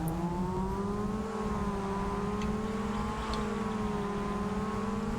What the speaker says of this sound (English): Engine sounds a little high-pitched and whiny.